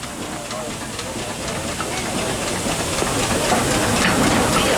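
Steam traction engine entering a rally arena at Strumpshaw, a continuous broad hiss and rumble that builds slightly over several seconds, with crowd ambience around it.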